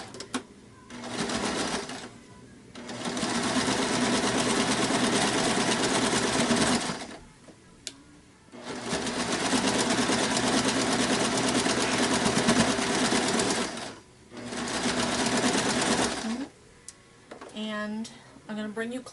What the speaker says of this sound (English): Okay, I'm going to sew this really quickly.